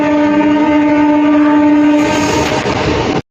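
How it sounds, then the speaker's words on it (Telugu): Loud, close train passing beside a railway track near a temple, with a long sustained horn blast over the rumble of the wagons before it cuts off abruptly. "ట్రైన్ కూడా వస్తుంది"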